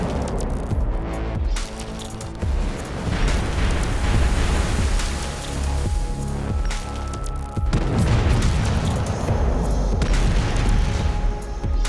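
Naval gunfire from Canadian destroyers Haida and Athabaskan firing on two German warships in the English Channel, rendered as repeated heavy booms and rumbling blasts, loud and dense throughout with no voices.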